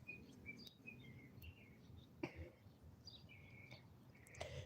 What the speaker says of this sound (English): Now all these damn birds are out chirping.